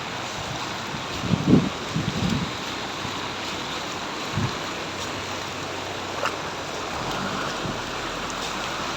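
Heavy rain pours steadily in hilly Malaysia, a dense hiss of falling water with a few louder splashes and thumps early on, fairly close and with no one talking.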